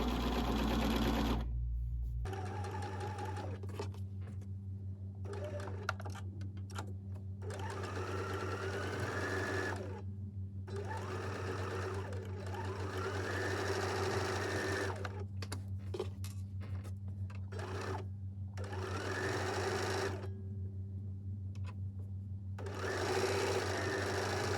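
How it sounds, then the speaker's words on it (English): A sewing machine stitches quilt pieces for a sampler block, running in a steady close whir with brief pauses and restarts. "I'm going to sew to the end."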